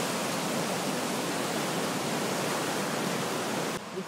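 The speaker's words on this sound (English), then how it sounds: "This is our river, like we said, the Roaring Fork River" The Roaring Fork River in Colorado rushes at a good high water level, a loud, dense, unbroken whitewater roar that holds steady until it dips slightly at the end.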